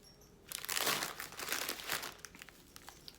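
A crinkly wrapper on tie-dye snack bars is torn open close by, giving a burst of crackling plastic that tapers off into a few lighter rustles.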